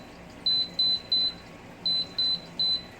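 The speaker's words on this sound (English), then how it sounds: "First thing you turn it on. And that's the air fryer." An air fryer set to 390 degrees beeps as it is switched on, giving two quick runs of three short, clear, high-pitched electronic beeps separated by a brief pause, heard alone in a quiet kitchen.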